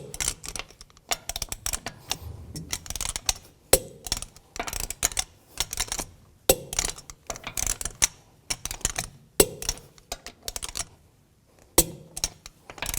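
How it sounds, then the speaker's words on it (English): Lug bolts on a 2006-10 Volkswagen Jetta front wheel are torqued to 89 foot-pounds in a cross pattern, giving a run of sharp, close metallic clicks and ratchet ticks in irregular bursts with short pauses, no talk. "Now I'm going to torque these lug bolts to 89 foot-pounds in a cross pattern"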